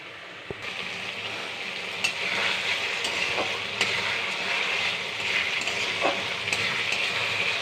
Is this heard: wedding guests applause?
no